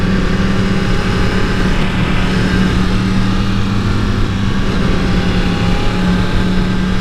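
A Yamaha R1 sport motorcycle with its stock exhaust riding at speed, a steady, loud, continuous engine drone mixed with wind rush and no breaks.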